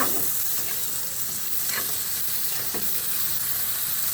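Food sautéing in its own juices in a hot pan makes a dense, steady sizzle throughout. A few soft scraping stirs sit on top of the sizzle, close and fairly loud, with no talking.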